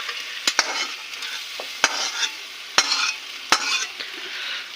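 A spoon scrapes and clacks against a pot while stirring paya biryani with potatoes, sharp knocks spaced irregularly over a soft background sizzle, close and fairly clear.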